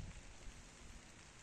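Summer rain falls steadily on a Canadian vegetable and flower garden with tomatoes and lupins, a soft, even patter of drops with no voices.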